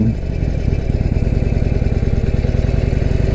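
A Harley-Davidson Sportster Forty-Eight engine runs steadily up close, its low, rapid throbbing pulse holding an even rhythm throughout.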